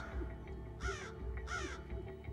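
A crow gives two loud, harsh caws about half a second apart, close by, over a low background rumble.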